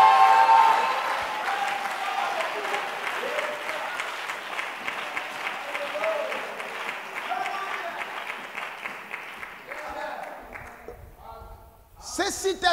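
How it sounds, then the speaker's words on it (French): Audience in a hall applauding and cheering: sustained, moderately loud clapping from many people with some raised voices, thinning out and fading toward the end before a short final stir. "J'aimerais recevoir les acclamations. J'aimerais entendre les cris des gens dans la salle."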